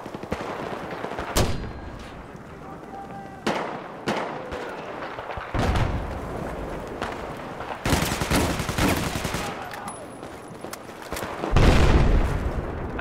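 Sniper and other gunfire in the World War II shooter Battlefield V, with sharp rifle shots and booming blasts popping up at irregular intervals over a steady battlefield din.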